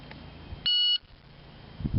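A single short electronic beep from a shot timer, steady and high-pitched, sounds in a quiet space, followed by faint low rustling.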